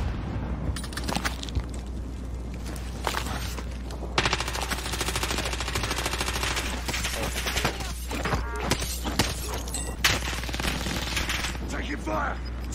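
Heavy gunfire in the video game Warzone, sustained automatic bursts and sharp shots layered into a loud, dense battle din that continues without a break, with voices faintly mixed in.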